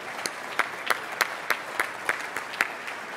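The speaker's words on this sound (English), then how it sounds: "Please join me in giving your BILD Board of Directors for this 2012 a round of applause." A dinner audience at a chair's dinner applauds a board of directors with a moderate, steady patter of claps and distinct sharper slaps at a roughly even pace.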